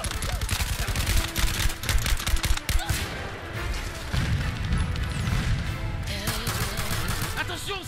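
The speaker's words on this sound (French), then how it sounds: "Attention, c'est un rafale explosif." A played video's explosive burst of gunfire crackles as a fusillade of rapid, overlapping shots, loud and dense, with talk mixed in over the clatter.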